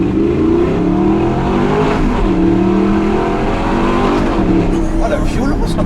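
Audi R8 V8 supercar engine roaring loud and close as it accelerates, pitch climbing through the gears with brief dips at each shift, a strong steady drone throughout.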